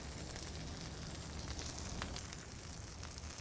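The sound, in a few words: burger patty sizzling on Blackstone griddle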